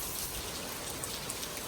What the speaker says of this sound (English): It hadn't stopped. Still raining.